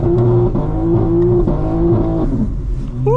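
2025 BMW M4 Competition xDrive engine revving with its exhaust valves open, a loud close droning roar that rises and falls in pitch through several rev changes, no talking.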